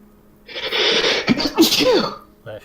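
A single close, forceful sneeze bursts out and then trails off, with a voice and game-table chatter around it.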